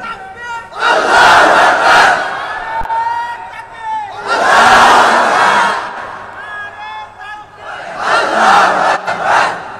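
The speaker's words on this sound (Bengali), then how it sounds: "যে কোনো একজন তাকবীর দেন দেখি" A large crowd at a Bangladeshi waz mahfil in Naogaon chants the takbir in unison, three loud, sustained collective shouts rising and falling in turn, with brief quieter gaps between.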